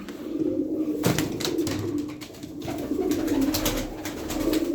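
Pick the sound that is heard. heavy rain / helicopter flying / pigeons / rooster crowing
pigeons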